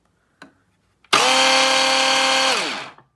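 An Arzum AR1041 Blendart 1500 W blender from the Nar series starts up after a small knock and runs loud and steady for about two seconds, its motor whine holding a constant pitch before it winds down.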